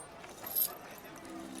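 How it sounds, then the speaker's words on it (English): Metal chains shuffling across steps behind a stage, with a brief clinking jangle near the middle over a low, steady murmur. "they heard the shuffle of chains across the steps behind the stage"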